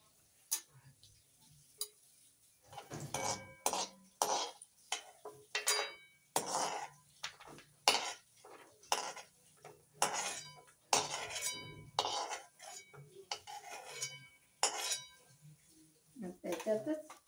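Semolina vermicelli for kheer is scooped into a plate, producing a steady series of close metallic clinks and scrapes from a spoon against the pan and plate, fairly quiet overall.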